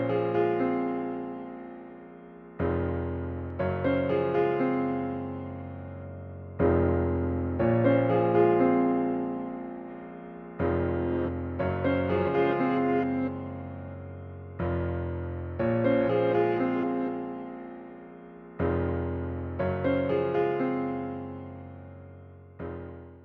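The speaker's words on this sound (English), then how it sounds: "Great sounding piano." A Universal Audio software grand piano plays a flowing melody with chords, phrases separated by brief pauses, clear and close with a sustained ringing tone.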